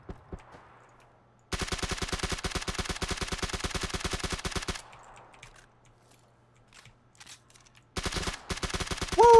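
Rapid automatic gunfire in PUBG, bursts of dense, evenly spaced shots in two long volleys and a shorter one, loud and close, with quieter gaps of ambient noise between them.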